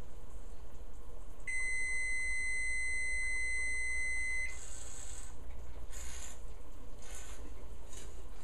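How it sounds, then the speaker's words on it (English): A kitchen timer sounds while homemade Bolognese sauce cooks, giving a steady high electronic tone for about three seconds, followed by several softer repeated beeps over quiet room noise. "You heard the timer go off, so you know it's ready."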